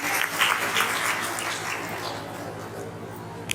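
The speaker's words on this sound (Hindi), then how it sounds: "तो आप सभी के लिए एक बार तालियां हो जाए" Crowd applause at a Sankalp Diwas rally, steady dense clapping from a large audience that holds at an even level for several seconds and lifts briefly at the end.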